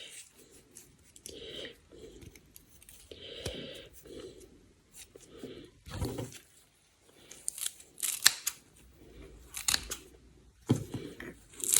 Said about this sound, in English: I got myself some of these scissors that I've got on multiple blades for cutting up herbs and leaves and so forth.